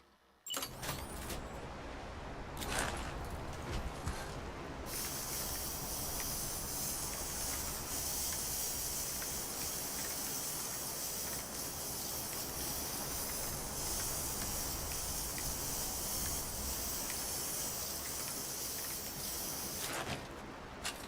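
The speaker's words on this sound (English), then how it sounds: "so let's use some paint repair spray" Paint repair spray used in the Death Stranding 2 video game, a long continuous loud hiss that runs steadily for most of the stretch before cutting off, with no talking over it.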